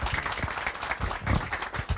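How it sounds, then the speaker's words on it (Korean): Faint, scattered clapping from a forum audience welcoming a lecturer, a thin patter of individual hands heard from a distance. "큰 박수 부탁드리겠습니다."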